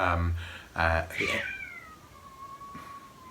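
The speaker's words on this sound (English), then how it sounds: "that's Maya and Fluffy Cat having a big scrap" Two house cats fighting, with loud drawn-out yowls and caterwauling in bursts followed by a long falling wail, close by.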